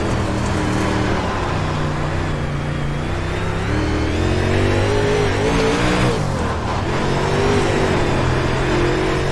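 Late model race car engine in a racing video game with the UMP mod, a continuous loud engine drone with wavering pitch as the car accelerates and lifts.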